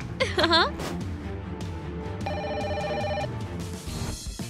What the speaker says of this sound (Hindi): सिर्फ रिंग बज रही है। फोन उठाओ।